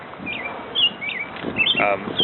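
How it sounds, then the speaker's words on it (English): A bird sings from up in a tree in Winnemac Park, giving a few clear, slurred chirping notes at a moderate distance over light outdoor background noise. "I hear a bird up in the tree."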